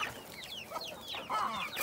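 Hens at their laying spot in a backyard coop give a string of short, close clucks and chattering calls, rising and falling in bursts with no talking.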